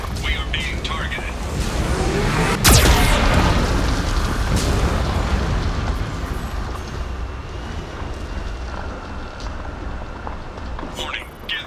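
Geth cannon blasts in the Mass Effect 2 video game, a sustained roaring rumble with one sharp loud burst early on and smaller pops scattered across, close and heavy.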